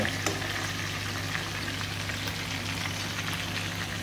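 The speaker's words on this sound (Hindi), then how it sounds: "मछली हमारी बहुत ही ज़बरदस्त तरीके से फ्राई हो जाएगी" Fish fries in a pan of hot oil with a dense, steady sizzle and crackle that stays loud and continuous throughout, with no talking.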